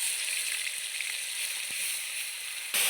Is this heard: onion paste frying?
yes